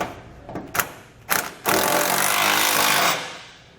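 Power tool driving a 19mm socket on bed bracket bolts under a 2020 Chevrolet Silverado bed. A few short bursts come first, then one sustained loud whir of about a second and a half, then it tapers off.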